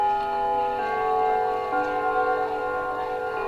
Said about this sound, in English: While the bell rings